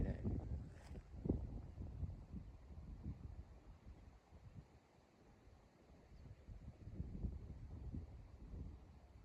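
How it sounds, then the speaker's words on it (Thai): Wind blows on an open field during kite flying, a faint low buffeting rumble on the microphone that swells and eases with no other distinct sounds. "โอ้ยลมนี่แหละ"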